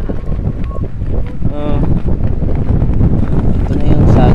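Strong wind roars across a riverside motocamping spot at Ambayaoan River, San Nicolas, Pangasinan, a loud continuous buffeting rumble that batters the microphone throughout, with a voice faintly audible beneath it.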